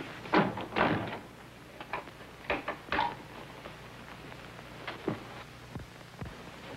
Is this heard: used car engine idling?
no